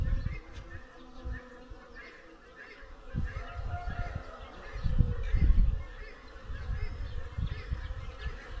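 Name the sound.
bees buzzing around a beehive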